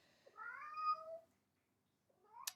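A domestic cat meows twice, a long drawn-out cry followed after a pause by a shorter rising one, heard clearly indoors with no talking over it.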